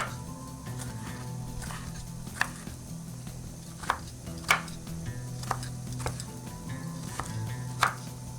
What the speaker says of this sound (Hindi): अमरूद यहाँ पर मैंने कट कर दिया है